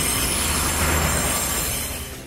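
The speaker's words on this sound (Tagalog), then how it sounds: "Nakita nyo, dumating yung tren." A train rolls past on an active railroad in New Taipei, a loud, close, continuous rumble with squealing wheels over the rails, easing slightly at the end.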